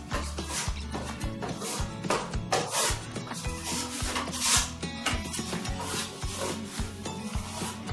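A steel trowel spreading and pulling burnished cement plaster across a wall, producing repeated rough scraping strokes in a steady back-and-forth rhythm, close and fairly loud with no talking.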